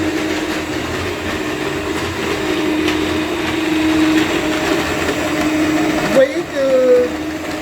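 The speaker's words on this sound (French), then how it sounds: "les ingrédients sont en train de se mélanger" An electric mixer whirs steadily while blending cake ingredients, a continuous motor drone running under a person speaking French, then briefly cutting off and changing pitch near the end.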